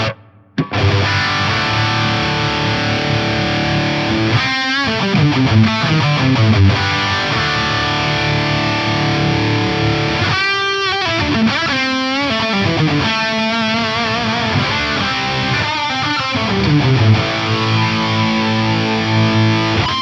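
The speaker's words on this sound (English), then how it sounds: "So I can have different flavors of reverb on here." Electric guitar played through a distorted tone with reverb switched from a compact Judahs Kedem MIDI foot controller, loud sustained chords and ringing notes with changing textures, no voice.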